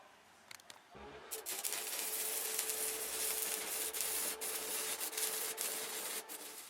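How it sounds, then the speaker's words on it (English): Steady, continuous grinding on welded metal for a mill enclosure, a loud abrasive hiss that starts abruptly after a second of quiet and runs on with slight surges, with no voices. "We'll do a bit more grinding and a bit more welding and grinding and welding and grinding and welding."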